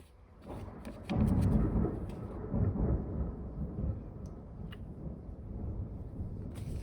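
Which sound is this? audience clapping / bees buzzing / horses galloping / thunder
thunder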